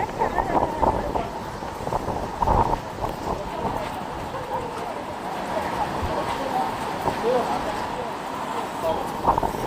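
Wind rushes steadily across the microphone with a broad, roaring hiss at rainy Amboli waterfalls, while someone talks over it throughout.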